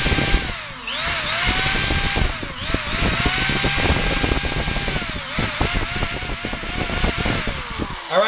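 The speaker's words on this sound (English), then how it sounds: "I'm going to drill it a little bit more" A power drill whines continuously with rising and falling pitch as it drills out a stubborn through-bolt on a Pentair WhisperFlo pool pump electric motor, grinding and rattling throughout.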